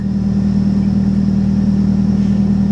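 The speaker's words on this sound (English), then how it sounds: "The engine sounds good." A car engine runs steadily at idle, a continuous low, even hum with no breaks or revving.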